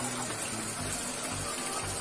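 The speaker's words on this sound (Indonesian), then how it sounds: "kran yang mengalir ke manifold tidak saya buka secara penuh" Well-pumped water pours from a partly opened tap into a hydroponic manifold, a steady, close rush of flowing water with a low hum underneath.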